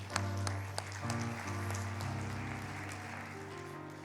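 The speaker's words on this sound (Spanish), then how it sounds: "Denle un aplauso a estos muchachos" A church congregation claps for two young men at a Spanish-language service, a quiet, diffuse rustle of applause under a steady humming tone.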